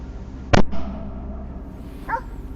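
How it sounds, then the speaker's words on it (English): Hunting dogs in the woods give one sharp, loud bark followed by a softer second yelp, then a faint whine a moment later over a low background rumble. "try to stay close to the sound of the barking dogs"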